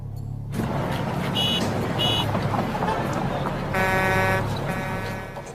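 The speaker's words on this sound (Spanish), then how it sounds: "Ahora el ruido de tráfico para compararlo." Recorded traffic noise played back in a test setting: a dense, steady rumble of vehicles with a couple of horn-like toots and tonal buzzes, loud and continuous.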